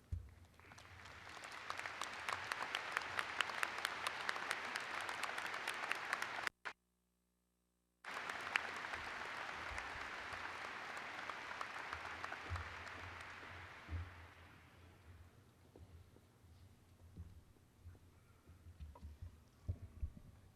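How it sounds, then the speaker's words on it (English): A large crowd at a May 2010 undergraduate commencement ceremony applauds the faculty. Sustained clapping rises and holds, breaks off for a moment of silence, resumes, then thins out into scattered claps and room noise. "join me in honoring them with your applause"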